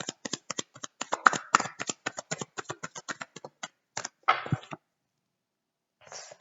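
Tarot cards being shuffled by hand, a fast run of crisp riffling clicks close to the listener, ending with a brief pause and a last short shuffle.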